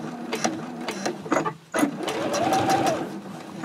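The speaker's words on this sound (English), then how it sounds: "When I get to the webbing, I'll just sew right over it." A sewing machine stitches a zipper case, running over webbing in quick mechanical bursts, pausing briefly, then resuming a steady hum of stitching close by.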